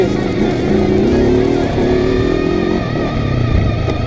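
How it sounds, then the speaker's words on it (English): A Honda TRX 500 Foreman ATV engine lugging in 4th gear, a loud steady low drone with a mild rise in pitch, heard close and alone. "I'm going to go ahead and put it in 4th now"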